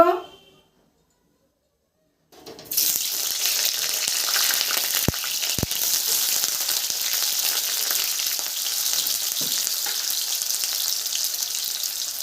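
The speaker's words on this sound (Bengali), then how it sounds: "আগে আমি আলুটা ভেজে নিব।" Potatoes frying in a pan: after a brief silence, a loud, steady sizzle of hot oil begins and holds evenly, with a couple of sharp clicks partway through.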